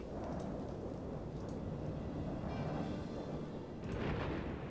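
A thunderstorm in the game Anno 1701 brings a steady wash of rain with low rumbling thunder swelling underneath, including a louder roll near the end, heard without speech.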